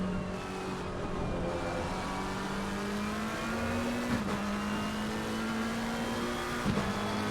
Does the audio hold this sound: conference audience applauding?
no